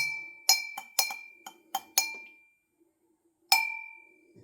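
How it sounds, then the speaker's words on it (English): A metal stir spoon mixing an Old Forester 1915 bourbon cocktail in a glass, a quick series of bright ringing clinks against the glass, then a pause and one last clear ding, close and alone. "we're going to take our little stir spoon, see if we can get it in frame here, and just mix it up nice and even"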